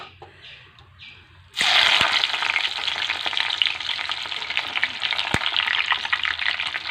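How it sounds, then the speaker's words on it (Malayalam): Capsicum dropped into hot oil on a stove, a sudden loud sizzle bursting in after a quiet moment and then hissing steadily up close, with faint clinks and no talking. "നമുക്ക് ഫസ്റ്റ് കുറച്ച് ക്യാപ്സിക്കം കറിയിട്ട് ഒന്നെണ്ണയിലിട്ട് പെട്ടെന്ന് എടുക്കാം"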